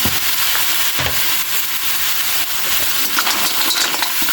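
Shrimp hitting hot oil in a pan for mussel tinola, giving a loud, steady sizzle and crackle with occasional stirring clinks, close up and without voices.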